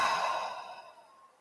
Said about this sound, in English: close your eyes and take 3 deep breaths